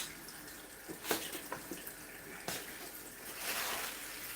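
Tap water runs into a sink being refilled for washing collard greens, a soft steady stream broken by a few sharp splashes and clatters, faint and without voices.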